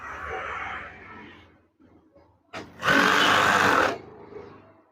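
A sewing machine stitches a curtain in a loud, steady whirring run of about a second, close up, after quieter handling noises.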